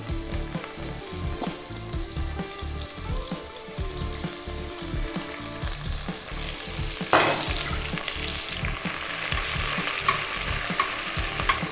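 Thick-sliced onions fry in hot oil in a pan for matar pulao, giving a steady close sizzle broken by repeated stirring scrapes; the frying grows louder and brighter toward the end, with no one talking.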